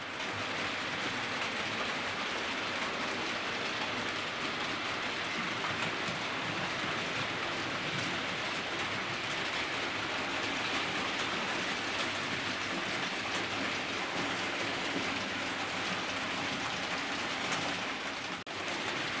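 Analogue model Class 37 locomotives pull rolling stock around a model railway circuit, giving a steady, faint continuous rumble and whir of small motors and wheels on track with no pauses.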